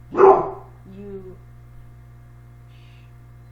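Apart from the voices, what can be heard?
dog barking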